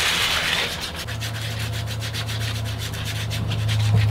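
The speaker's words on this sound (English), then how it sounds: "Okay, start sanding." Hand sanding of a small wooden log, a steady rhythmic scratchy rubbing with repeated strokes, close and continuous, with a low hum underneath.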